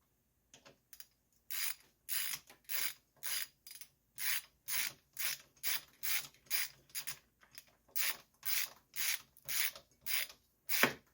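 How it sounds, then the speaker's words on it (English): A hand ratchet tightens a 10 mm socket on a Mercury 3.5 HP outboard, giving a steady run of about twenty crisp clicking strokes in even rhythm, close and clear with no voices. "And then finish it up with the socket. Remember, this is a 10 millimeter."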